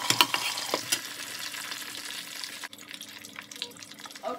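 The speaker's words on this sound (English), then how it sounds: "And now it's frying." Pork for Haitian griot sizzles and crackles in a hot pan, with loud bursts of spitting at first, then a steadier, quieter frying hiss.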